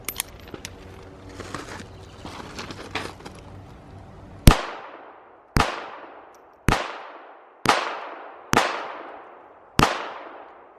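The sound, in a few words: gunshots from a Rock Island Baby Rock .380 ACP 1911 pistol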